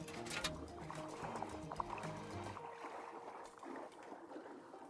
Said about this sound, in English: Got that hot water going.